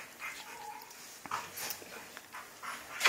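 A Chihuahua mix puppy, about five months old, gives soft, faint whimpers and a few small yips in a quiet room, in short breaks scattered through a few seconds.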